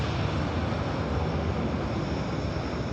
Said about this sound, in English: Really bassy takeoff.